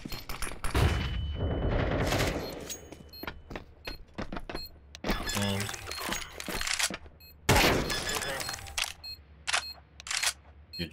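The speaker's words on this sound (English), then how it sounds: "Flashbang." Counter-Strike 2 firefight with a flashbang and bursts of rapid gunfire, loud and close, shots coming in clusters with short pauses, plus sharp clicks and thuds between volleys.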